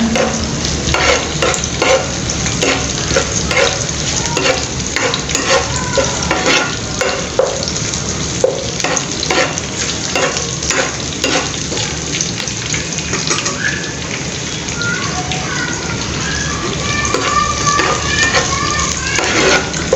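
Pepper chicken ingredients frying in hot oil, a steady loud sizzle running throughout with frequent scraping stirs and clinks of a utensil against the pan, and faint tap water or dish sounds near the end.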